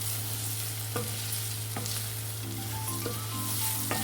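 Brinjal with onion masala frying in a pan, a steady close sizzle with a few light spoon scrapes and a constant low hum beneath, no talk.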